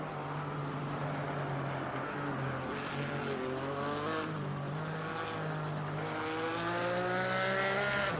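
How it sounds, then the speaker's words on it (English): A GT4 race car in a sim racing game at the Nürburgring, its engine a steady, continuous drone whose pitch rises and falls through gear changes and accelerations, with no talking over it. "So you can hear the car there."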